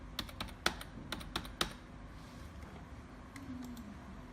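A password being typed on a computer keyboard during a software install: a quick run of crisp, close key clicks over about a second and a half, then quiet room tone.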